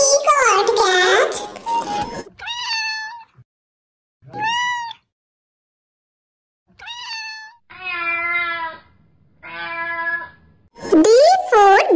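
A cat meows several times, clear and close, with pauses between the calls and a voice at the start and end.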